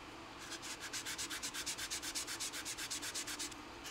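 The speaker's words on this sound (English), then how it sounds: "Just a little bit of sanding to remove some of that." Sanding a plastic part of an A-6E Intruder model kit: a fast, even series of about twenty short scratchy strokes, close and quiet, with no talk.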